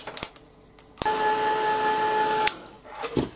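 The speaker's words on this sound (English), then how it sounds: "give this a quick blast with the heat gun just to make sure it's dry" A heat gun blows hot air over a canvas to dry it, a steady close whir with a faint whine lasting about a second and a half. It starts and cuts off abruptly between a few small knocks, with no talking.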